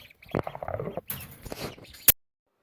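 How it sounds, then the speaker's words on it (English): Baby chicks peeping indoors at home, a scattered run of short bright chirps and patters filling about two seconds, fairly close and alone with no talking. "we have baby chicks. Something I've had to listen to for the past couple weeks"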